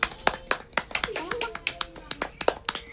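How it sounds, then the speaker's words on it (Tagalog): Several people clapping indoors in a home setting, sharp distinct claps in an irregular rhythm close by, with a voice and talking mixed in between the claps. "Palakpak."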